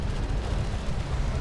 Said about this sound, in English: now my carrier should be throwing some ranged fire out here